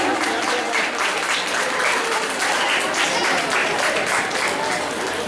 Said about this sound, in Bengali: জোরে করতালি দেওয়ার অনুরোধ জানাবো।